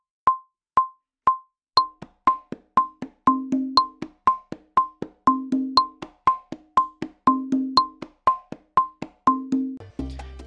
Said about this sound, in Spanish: Este patrón lo llamamos conga abajo